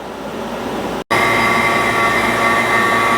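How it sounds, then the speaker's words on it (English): A vacuum pump evacuating the AC system of a 2010 Mercedes SLK300, a loud, steady mechanical drone with a whining tone that cuts out briefly near the start, then resumes and runs on evenly. "I'm going to draw it down to a vacuum now for a few minutes and then charge it with the proper amount."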